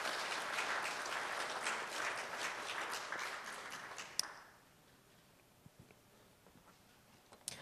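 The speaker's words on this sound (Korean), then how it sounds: "맞다고 생각이 되시면 박수 한번 쳐주십시오." An audience at a lecture claps steadily for about four seconds, then the applause cuts off abruptly, leaving a quiet room with a few scattered claps and small noises.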